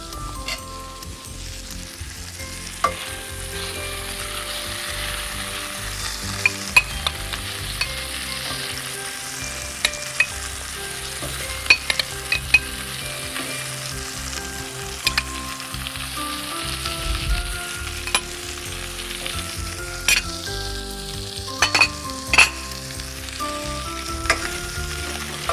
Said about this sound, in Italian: Ecco, aggiungiamo a questo punto